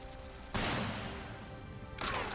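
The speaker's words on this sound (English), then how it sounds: "Oh, flashbang." A flashbang grenade goes off in the role-playing game Trails Through Daybreak 2 with a sudden loud burst that rings and decays, followed by a second sharp blast near the end.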